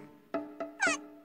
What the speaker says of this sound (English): Why is the cat screaming?